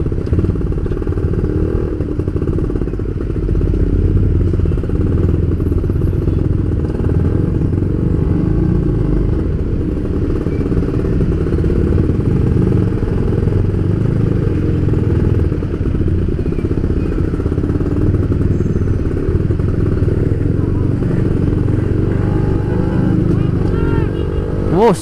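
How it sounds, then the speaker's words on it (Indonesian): A Yamaha F1ZR (Force 1) two-stroke motorcycle creeping through a rush-hour traffic jam, its engine a loud, close, continuous drone with low rumble and slight revving swells throughout, and other traffic blending in. "Ramai guys ya, macet ya, ini jam-jam pada pulang kerja mungkin."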